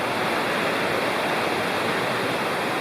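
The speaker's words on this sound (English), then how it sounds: "The river's down there," A river flowing below a campsite in the Bald River Gorge wilderness, a constant dense rushing wash of water, steady and unbroken throughout.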